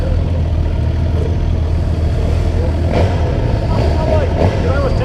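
A Suzuki GSX-R 750 sport motorcycle idling right after its first startup gives a loud, steady, unbroken rumble with a constant low drone and no clear speech.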